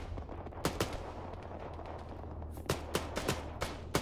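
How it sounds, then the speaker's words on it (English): Gunfire in the military video game Arma: scattered sharp shots crack out at irregular intervals, a pair early and a denser cluster of several near the end, over a steady low rumble. "I got fire here from somewhere I can't see."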